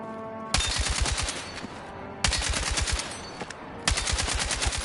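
An RPK-M machine gun in Battlefield 6 fires three loud, close bursts of rapid automatic shots, each cut off by short pauses, with no talking.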